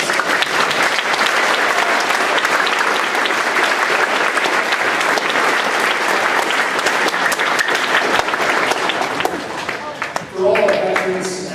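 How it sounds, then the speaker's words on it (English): Audience applause at a high school Veterans Day assembly, sustained loud clapping from a large crowd in a hall, fading near the end as a voice begins speaking. "Can I get a round of applause for those that have helped us?"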